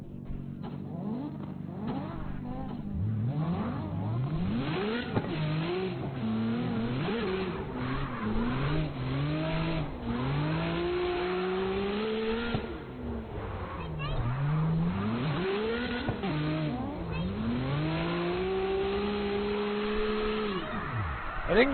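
Racing cars in the CarX driving game roar continuously, with engine pitch climbing and falling through repeated revs and gear shifts, close and sustained for the whole stretch, with occasional tire squeal and a voice talking over it.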